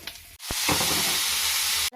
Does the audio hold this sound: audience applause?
no